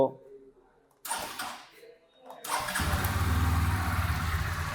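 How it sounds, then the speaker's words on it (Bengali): A Hero Xtreme 160R 4V motorcycle engine starts after short gaps, then settles into a steady, loud, close idle rumble that runs to the end. "বাইকটা যদি আমি স্টার্ট করি"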